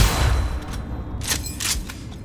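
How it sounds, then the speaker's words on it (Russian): Loud gunfire in Cyberpunk 2077, a couple of sharp cracks over a low rumbling background, no talking. "Очень, на самом деле, громкий выстрел"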